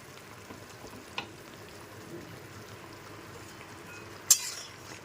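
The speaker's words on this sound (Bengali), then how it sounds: "এবার ওপর থেকে নিচে একটুখানি খুব ভালো মতো নেড়ে নিলাম" Papaya curry being stirred in a pan, a quiet, steady simmering hiss with a soft scrape near the start and a sharper clink of the spoon near the end.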